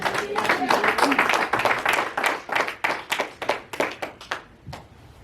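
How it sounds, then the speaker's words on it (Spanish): Spanish-speaking church congregation applauding, loud uneven clapping with distinct individual hand claps that grow sparser and fade over a few seconds, with voices mixed in early on. "Denle un aplauso a Cristo."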